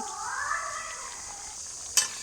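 Chopped onions sizzle as they fry with meat in a pan, with a steady hiss, faint scraping as the mixture is stirred, and a sharp clink of a utensil near the end.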